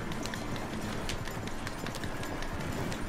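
Horses galloping in the online mode of the video game Red Dead Redemption 2, a continuous rapid clip-clop of hooves over a dense, steady bed of noise.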